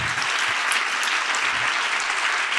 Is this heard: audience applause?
yes